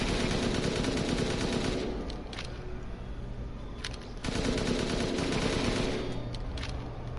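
Sustained gunfire from the video game Resident Evil Village, a dense, loud wash of rapid shots running throughout with brief sharp cracks standing out and a short lull midway, no talking.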